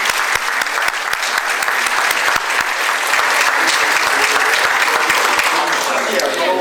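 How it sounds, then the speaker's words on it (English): Sustained, dense applause from the audience at a business hall of fame ceremony, honoring the board of directors, with steady clapping throughout. "So let's give a round of applause for our board of directors, please."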